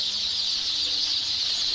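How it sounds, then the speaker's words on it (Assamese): Local chicken chicks in a poultry hatchery stock room give a steady, dense chorus of high peeping that runs without a break. A low rumble of the room sits underneath, and no one speaks. "এইটো আমাৰ লোকেল মুৰ্গীৰ পোৱালি।"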